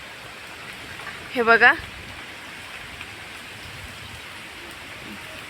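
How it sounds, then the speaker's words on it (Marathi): Strong wind rushes through trees outdoors as a steady, close, hissing roar throughout, with a brief spoken phrase partway through. "खूप म्हणजे खूप वारं सुटलेलं आहे."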